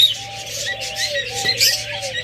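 Pet lovebirds in a breeding pair calling nearby, a run of thin high chirps and whistles laid over a low steady hum, with soft coo-like tones drifting underneath.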